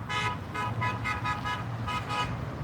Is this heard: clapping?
no